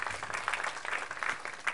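Congregation clapping at a Christmas church service, a moderate, steady patter of many hands with no speech over it.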